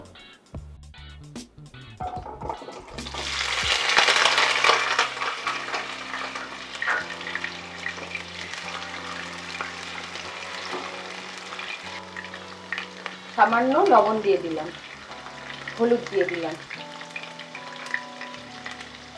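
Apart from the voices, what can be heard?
potatoes frying in hot mustard oil in a wok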